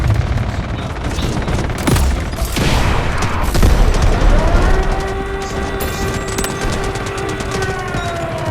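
Artillery barrage and gunfire in the video game Delta Force Mobile: dense, loud bursts of automatic fire and heavy booms pound through the middle, then a sustained wailing tone rises over continuing shots.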